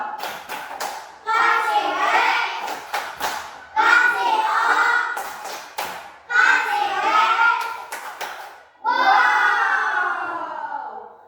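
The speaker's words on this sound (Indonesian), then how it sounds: "Kasih tepuk wow dulu dong. Tepuk wow." A class of young schoolchildren performs a rhythmic clapping chant, with bursts of sharp hand claps alternating with loud unison shouted chanting, repeated in several cycles and close by.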